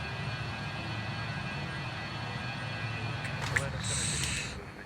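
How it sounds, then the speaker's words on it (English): Engines of a BAe 146-300 airliner give a steady, broad roar throughout, with a faint high whine and a short hissing swell near the end. "It's a nice sounding plane."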